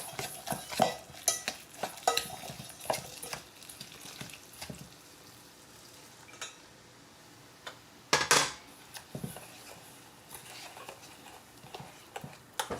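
Chili sauce is stirred into a fried chicken spice mix, giving faint scraping and ticking of a utensil against a bowl in irregular bursts, with a louder clatter near the end.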